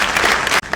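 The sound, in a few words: audience applause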